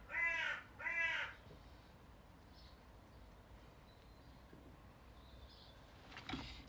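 Magpies give two loud, harsh, rasping calls close by in quick succession. Quiet background follows, broken by a few faint scattered sounds.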